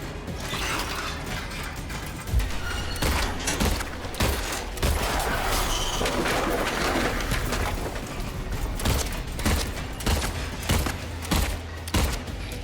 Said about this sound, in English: Shoot better than that, James.